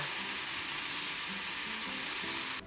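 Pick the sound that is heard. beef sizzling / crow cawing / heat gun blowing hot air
beef sizzling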